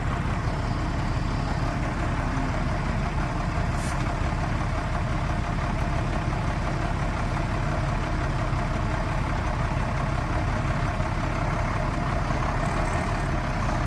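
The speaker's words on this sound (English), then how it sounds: "once she's running, there's no smoke coming out of the smokestack. Engine sounds fantastic" The diesel engine of a 1994 International S2500 truck runs at a steady idle, a continuous low rumble heard close by for the whole stretch, with no talking.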